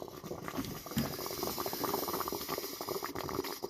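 A Mr Coffee 12-cup coffee maker with LED touch display (BVMC-TP) brewing, with grounds overflowing the filter; steady close gurgling, bubbling and hissing of hot water throughout, no talking.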